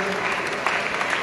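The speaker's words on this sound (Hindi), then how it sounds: "सभी एक बार जोरदार ताली बजा दें" Audience clapping at a Jain temple event in Kota, a short burst of dense, moderately loud applause filling the moment.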